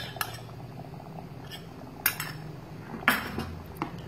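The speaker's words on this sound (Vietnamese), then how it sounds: "Bạn quấy lên cho nó chín nhé" A utensil stirs chè cốm, a Vietnamese sweet dessert soup thickened with starch, in a pot, giving a few scattered metallic clinks and taps against the rim over a quiet background.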